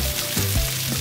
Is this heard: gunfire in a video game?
no